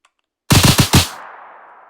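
A short burst of rapid gunfire from a weapon in a video game, four loud, close shots in quick succession followed by a fading echo tail.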